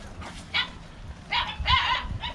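A dog yips and barks in short bursts, a few quick calls spaced across a couple of seconds, moderately close.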